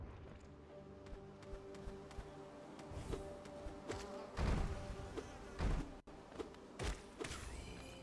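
Giant bees in the video game Hollow Knight give off a faint, steady insect-like buzz, broken by several louder thumps and impacts from gameplay, with no talking.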